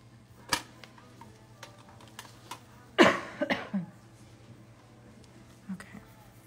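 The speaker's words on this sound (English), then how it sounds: "Leftover coughs from colds are like the devil." A lingering cough left over from a cold, a sharp close cough burst with a couple of follow-up hacks, alongside faint scattered clicks and taps in a quiet room.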